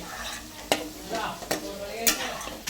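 Potatoes fried until reddish-brown are lifted out of a pan of hot oil: a soft sizzle runs underneath while three distinct metal spatula scrapes and clanks ring out close by.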